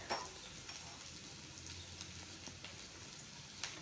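Kachori filling sautéing in a pan for aloo bread kachori gives off a soft, steady sizzle and crackle with a few faint clicks and stirring scrapes. No voices are heard.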